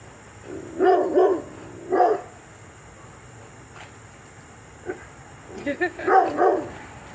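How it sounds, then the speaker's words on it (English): A dog barks in short bursts, two quick volleys early, then a pause before a cluster of sharper barks near the end, fairly close, against a faint insect-like background hiss. "sorry about the annoying dog."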